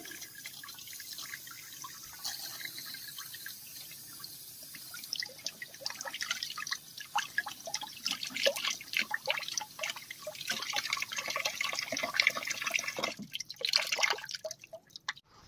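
Water from a hose flushes through the radiator of a Kioti K9 utility vehicle, splashing and dripping out in an uneven trickle that grows louder and denser toward the end, with no speech.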